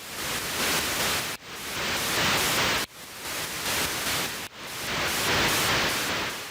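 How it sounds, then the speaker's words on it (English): Generated white noise sound effect: a flat, hissing wash of static in four long blocks, each cut off sharply by a brief dip to near silence before the hiss returns at full level. "Since we're working with white noise, it won't be that noticeable when I change the frequency."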